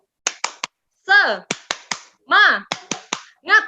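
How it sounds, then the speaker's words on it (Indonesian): A group at a vocational health school training session performs a rhythmic chant-and-clap routine: sharp, close claps in quick sets of three, each set followed by a short chanted voice, repeated in a tight pattern. "Jadi kita akan melakukan tepuk semangat."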